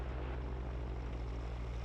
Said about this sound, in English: Alright, pre-rotator's engaging.